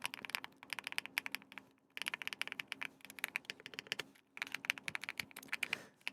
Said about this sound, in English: with my current custom keyboards is they sound like this